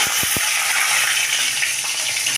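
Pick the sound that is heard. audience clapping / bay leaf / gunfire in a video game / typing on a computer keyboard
bay leaf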